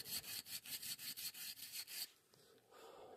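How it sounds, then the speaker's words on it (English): An abrasive pad scrubs old sealant off the aluminum casing of a Lencore e-bike hub motor, giving about ten quick, even back-and-forth rasping strokes at close range before the scrubbing stops. "I'm just using like a Scotch-Brite thingy, but you can also use like a wire brush."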